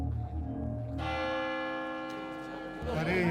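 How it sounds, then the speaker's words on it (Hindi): A bell rings with a sustained, resonant tone and long harmonic decay, steady and fairly loud, with faint murmuring underneath. "घंटी बज गई।"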